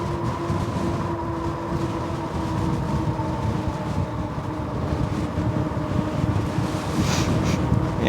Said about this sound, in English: Yeah, it's really windy right now.